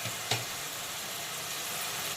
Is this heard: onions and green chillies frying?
yes